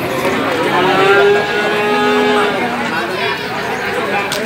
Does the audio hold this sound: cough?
no